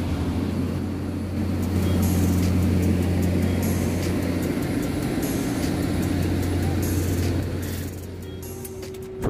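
An airplane at an airport as passengers board, heard as a loud, steady engine drone with sustained low hum and faint rhythmic clicks, easing slightly near the end.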